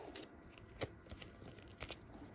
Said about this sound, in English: You shuffle.